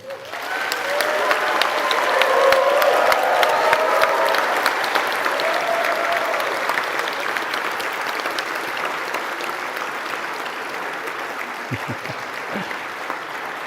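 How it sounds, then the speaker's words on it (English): Loud, sustained applause from a large university graduation audience fills the space, a dense wash of clapping that slowly fades a little toward the end. "Give them a huge round of applause."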